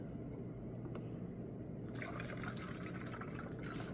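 Leveling thinner is poured through a funnel, giving a steady liquid trickle and fill sound that brightens partway through, close and fairly quiet.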